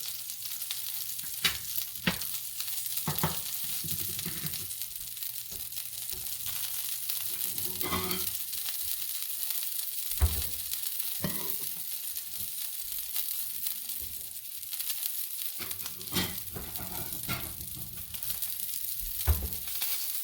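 Salmon fillet sears skin-side in hot oil in a pan while oil is spooned over it, giving a steady loud crackling sizzle with repeated scrapes and clinks of the spoon or spatula throughout.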